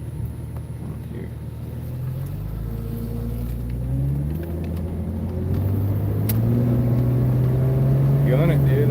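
An old car with a 4.0 engine runs on a town street, its engine note rising steadily as it accelerates with audible shifts through the gears, a loud close rumble throughout.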